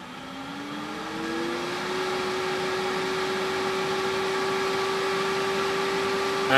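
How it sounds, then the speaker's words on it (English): A Hayward Super Pump VS variable-speed pool pump motor hums with a steady tone that climbs in pitch over the first two seconds, then holds at maximum speed with a constant, even drone and no voices. "hit the quick clean button. It's gonna crank it up to maximum speed for an hour"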